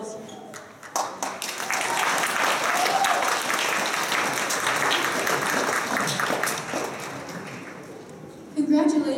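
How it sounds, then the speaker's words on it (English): Sustained applause from a sizable crowd at a grade 9 graduation ceremony, steady and dense for several seconds, with a brief louder burst near the end. "Let's have one more round of applause for our grade 9 class of 2019."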